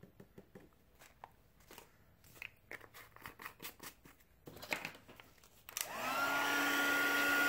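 A heat tool starts blowing to melt embossing powder on a card, its steady loud whooshing roar coming in near the end after scattered handling clicks and rustles of craft materials.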